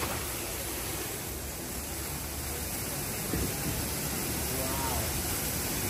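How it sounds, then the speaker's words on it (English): A powerful water cascade from a waterfall effect being tested for a show aboard the world's largest Royal Caribbean cruise ship gives a constant, loud, rushing roar, with faint voices underneath. "they're testing the waterfall effect right now"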